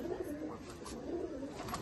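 Soft, rolling coos from a female Ablook pigeon kept in a home loft, low and repeated in a continuous murmur, close but quiet.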